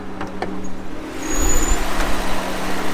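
A 1989 Volvo 480 car runs with a steady low engine hum, heard from inside or close by, swelling slightly louder partway through with no talking.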